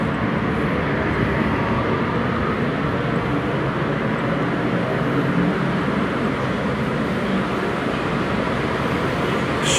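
A commuter train pulls into a station in Taiwan, a steady loud rumble and roar of wheels and motors filling the whole stretch without a break, heard alone.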